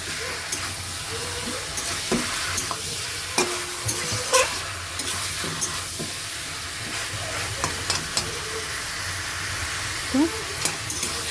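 Chicken pieces sizzle steadily in a pan as they are fried and stirred for a Bengali chicken curry, with repeated scraping strokes of a spoon breaking through the constant hiss, close and moderately loud.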